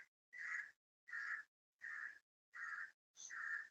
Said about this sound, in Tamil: காக்கா